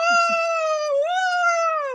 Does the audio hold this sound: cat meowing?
yes